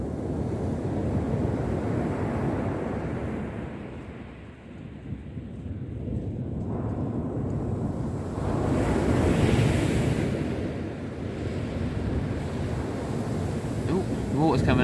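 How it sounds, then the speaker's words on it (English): Sea waves break steadily on the shore at Corton on the UK coast during a fishing session, a dense continuous wash of surf with strong gusting wind over the microphone that swells and eases across the whole stretch. "That's just where the waves are hitting the line."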